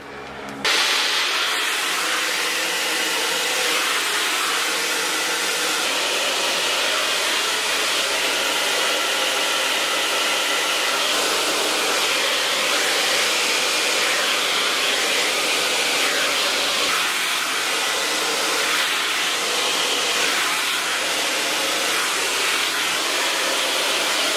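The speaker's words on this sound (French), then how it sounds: "on va passer au séchage des cheveux" A hair dryer blows on curly hair at medium power, a loud, close, continuous whooshing roar that starts abruptly and holds steady for over twenty seconds, with no talking.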